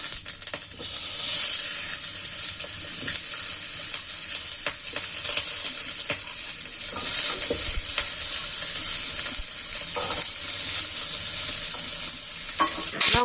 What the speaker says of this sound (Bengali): এগুলোকে সব আমি দিয়ে একটু পোড়ানোর মতো করে ভেজে নেব।